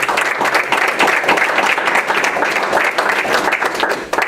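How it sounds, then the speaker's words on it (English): School board meeting audience giving a round of applause for two gentlemen, dense continuous clapping from a room full of people, loud and steady throughout with no voices. "I'd like to have a round of applause for those 2 gentlemen"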